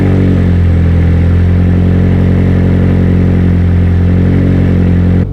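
A brand-new motorcycle engine with only 48 miles on it runs with a loud, steady, close-up drone, an even rumbling throb that holds without a break and no voices over it.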